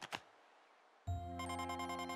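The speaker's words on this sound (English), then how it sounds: "Oh, it's actually probably the ringtone." An electronic ringtone from Paper Mario: The Thousand-Year Door on Switch signals an arriving email: after a short quiet stretch, a bright, steady chiming melody of layered tones starts suddenly and keeps playing, clear and fairly loud.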